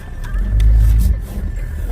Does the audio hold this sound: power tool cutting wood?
no